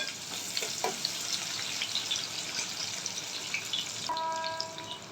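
Onion and curry leaves frying in hot oil in a pan, a steady close sizzle with light crackles and a few soft stirring clinks, no talk.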